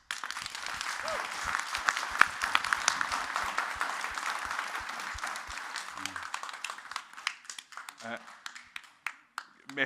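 A round of applause from an audience at a postal workers' meeting with a government minister rises under speech, then thins into scattered individual claps and stray noises as it fades.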